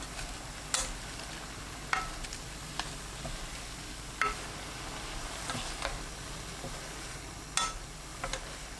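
Onion, cabbage, green onion and chili stir-fried with soy sauce and anchovy fish sauce in a pan: a steady, moderate sizzle runs throughout, broken by occasional sharp clicks and scrapes of a utensil against the pan.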